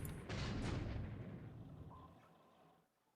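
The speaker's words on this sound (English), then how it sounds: "I'm firing at an AK now" Naval gunfire from a war game strikes a ship off Karachi, a sharp loud blast at the start that gives way to a long rolling rumble fading out over several seconds, no voices.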